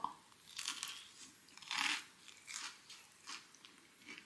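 Crunchy bites and chewing of Ottogi crispy chicken, a series of about five sharp crackling crunches spaced irregularly, close to the mouth with no talk.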